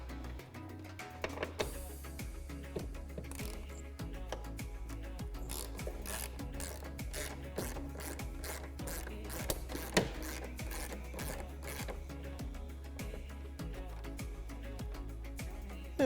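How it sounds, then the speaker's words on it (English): A nut comes off the hood hinge of a 2015-2020 Mustang under a tool, giving steady rhythmic scraping and ratcheting clicks at close range with no talk. "The first thing we're going to do is remove this nut from our hood hinge"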